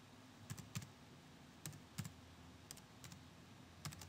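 Keystrokes on a computer keyboard while entering a formula in Mac Excel: a few sparse, close clicks in small clusters, spaced irregularly, over a quiet room hum with no talking.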